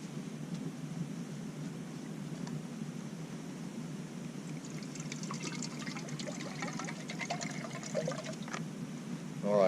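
Low, continuous trickling of a cup of water being poured for Spanish rice, faint and steady, with small splashy clinks near the end.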